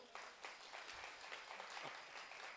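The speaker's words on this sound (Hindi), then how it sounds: "एक बार ताली बजा दो।" Scattered audience clapping at a Hindi poetry gathering in a hall, quiet and distant, a thin patter of hands lasting a couple of seconds.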